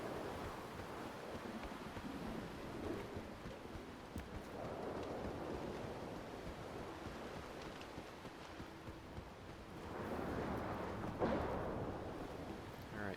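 Thunderstorm in the video game S.T.A.L.K.E.R. 2: Heart of Chernobyl, a steady roar of rain and wind with low rumbling that swells into a louder thunder roll near the end, continuous and without speech.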